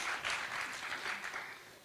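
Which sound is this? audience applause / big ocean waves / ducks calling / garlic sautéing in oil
audience applause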